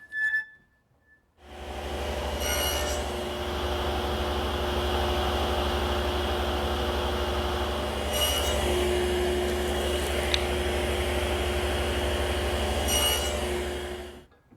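A saw spins up and runs loud and steady for several seconds while making a 3/16-inch-deep cut in a scrap piece of wood, with a constant hum and rushing noise that stops abruptly at the end.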